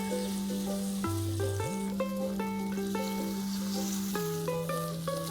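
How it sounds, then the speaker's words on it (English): Marinated pesto chicken sears gash side down in hot oil in a pan, giving a steady, soft sizzle under recorded background music that plays throughout. "place the gash side in oil and allow it to pan sear."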